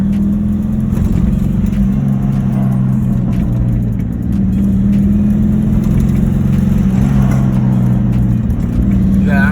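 A turbocharged BMW E46 with a blown engine runs loud and close, its rough low rumble holding steady throughout, with a brief dip around the middle.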